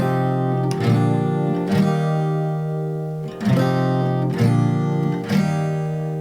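Acoustic guitar strummed steadily, chords ringing into one another in a continuous wash with regular accented strokes and no muted gaps, loud and close.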